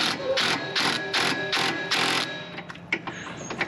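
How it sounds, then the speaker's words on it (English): Wrench tightening a nylon lock nut on a cargo trailer camper jack, five loud ratcheting bursts in a steady rhythm, close up, followed by a few softer clicks and taps. "now I'm going to tighten it up with a wrench."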